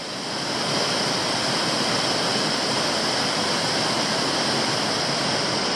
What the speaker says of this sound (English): I'm at the base of the impressive Hartnett Falls, at 20 to 25 metres high